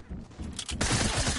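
A burst of rapid gunfire from a SCAR and an SMG in a video game, starting quieter and then erupting into dense, continuous shots.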